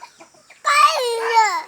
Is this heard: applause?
no